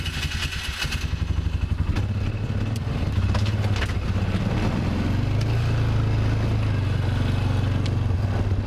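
A four-wheeler ATV engine running close by outdoors during a deer-scouting outing; a steady mid-pitched drone that grows louder and fuller after about three seconds, with clattering, no talk.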